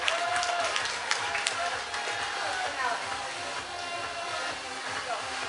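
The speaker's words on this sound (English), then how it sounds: "Let's give a round of applause" An audience at a traditional Asian costume fashion show applauds with scattered, moderately loud clapping that carries on for several seconds, with crowd noise and voices underneath.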